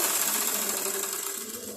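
A sewing machine runs steadily while stitching a seam on a blouse, a continuous, fairly quiet mechanical hum heard alone for the whole stretch.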